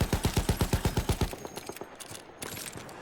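Battlefield 1 machine gun firing a fast, loud, rhythmic burst of about a dozen shots, then scattered distant gunfire and battle noise trailing off, no talking.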